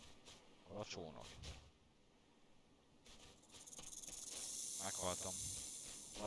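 In a survival video game, a snake gives a few short, sharp hisses amid soft creature chirps and game ambience, with a longer bright hissing wash building in the final seconds; faint and fairly quiet overall.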